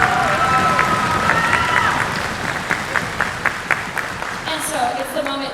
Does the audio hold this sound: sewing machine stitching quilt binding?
no